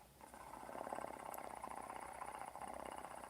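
A voice imitates a cat's purr, a soft continuous rattling hum held for a few seconds, close to the listener.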